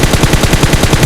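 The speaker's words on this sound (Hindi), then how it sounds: "अब इधर से भी फायर आ रहा था" Loud, close automatic gunfire in the video game PUBG, a rapid unbroken burst of evenly spaced shots over about a second.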